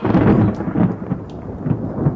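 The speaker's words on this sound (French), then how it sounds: "Voilà, il avait inventé le premier roulement de tonnerre." A deep roll of thunder rumbles loudly and continuously, fading slightly toward the end, with rain pattering underneath.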